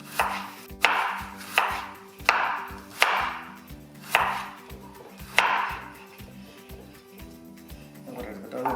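A knife chops salad vegetables into fine pieces in a regular series of about eight sharp, close strikes on a board, the rhythm slowing and fading near the end.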